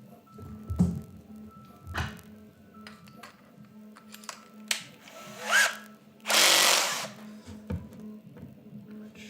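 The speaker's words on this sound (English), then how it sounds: "I'm just gonna drill it and do the drill wiggle technique and hope that works." A power drill with a 10 millimeter bit bores a hole during kinetic sculpture assembly, heard as short intermittent whirring bursts with light metallic clinks, then one louder, longer grinding burst near the end.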